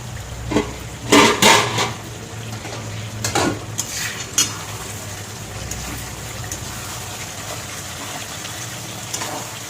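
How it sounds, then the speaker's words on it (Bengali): A metal lid comes off a pot of boiled eggs and potatoes with a few close clanks and scrapes. Quieter kitchen clatter and a low background hum follow, with no voices. "ঢাকাটা তুলে নেব।"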